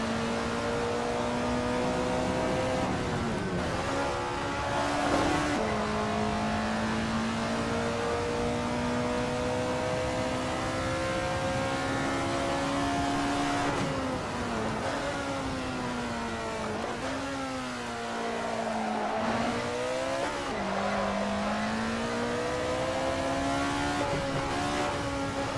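An Alfa Romeo 33 Stradale circles Laguna Seca in a racing game, its engine droning steadily with pitch swells and dips as it slides and regains grip, no talk.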